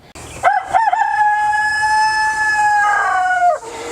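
A rooster in a backyard chicken coop crows once, long and loud, a sustained ringing call held for about three seconds at close range.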